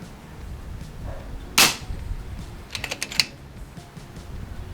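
A rifle fires at a steel gong target 165 yards away, giving one loud sharp crack followed a second later by a cluster of fainter, quick metallic pings and snaps outdoors.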